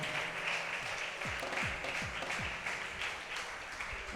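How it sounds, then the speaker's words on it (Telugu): A church congregation clapping together during worship, a broad sustained wash of many hands clapping loudly with a few low thumps partway through, no clear speech. "బిగ్గరగా చప్పట్లు కొడుతూ దేవనామాన్ని మహిమపరుచుదాం"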